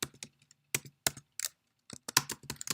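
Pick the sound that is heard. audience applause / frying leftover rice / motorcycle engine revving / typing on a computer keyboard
typing on a computer keyboard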